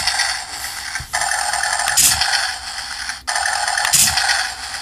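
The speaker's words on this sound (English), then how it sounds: "That's actually the gun firing, kind of a simulated sound for that" Simulated gun-firing effect from a 1:72 scale Panzer Tiger RC tank: a steady buzzy electronic drone broken by two short sharp bursts about two seconds apart, close and fairly loud, with no talking.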